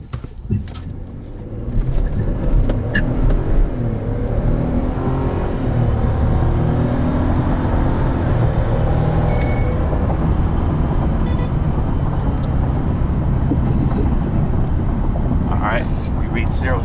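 A 2019 Ford pickup with a 2.7 EcoBoost engine and four-wheel drive engaged pulls hard from a stop to 60 on a dark two-lane road, a loud, sustained engine roar and whir held steady throughout as a voice talks over it.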